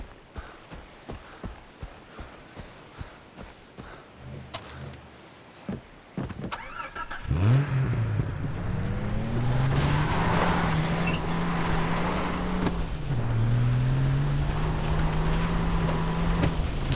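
Car engine in the video game Far Cry 3, starting up after scattered clicks and thuds, then a loud steady drone that shifts pitch as the vehicle drives, with no talk over it.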